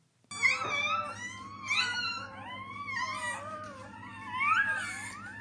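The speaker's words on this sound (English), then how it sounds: "it's basically puppies mewing" High, wavering whimpers and mewling cries from young puppies, several overlapping wails rising and falling, close and fairly loud.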